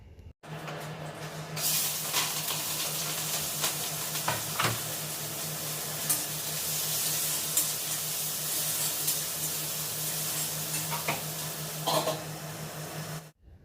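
Vegetables frying in a pan in a home kitchen, a steady, moderately quiet sizzle and hiss lasting throughout, with small crackles and a few stirring clinks on top.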